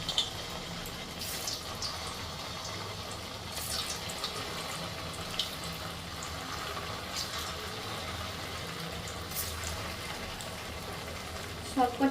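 Chhana (cottage cheese) fritters fry in hot oil in a kadai, a soft, rain-like crackle running steadily at low volume, with a few brighter pops.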